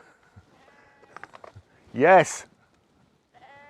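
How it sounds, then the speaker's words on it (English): A sheep bleats once, loud and close with a wavering, quavering call, heard outdoors beside a parked 2011 Audi A3 Sportback while someone speaks briefly before it. "Flipping sheep, always have to get the last word in."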